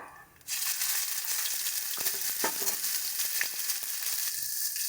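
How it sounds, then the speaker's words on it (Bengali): Nigella seeds drop into hot fish-frying oil for tempering, setting off an abrupt loud sizzle that holds steady and bright with small crackles and pops, with no talking. "দিয়ে দিচ্ছি কালো জিরে ফোড়ন"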